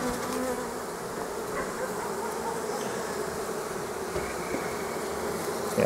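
Honeybees from a strongly populated colony buzz at the hive in early spring, a steady, dense droning hum that continues unbroken throughout.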